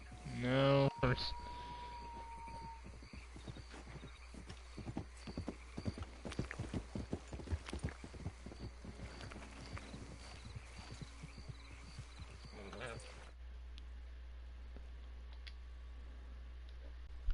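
Rhythmic clip-clop of horse hooves in Red Dead Redemption 2 Online over a steady background, with a brief whinny near the start and occasional voices.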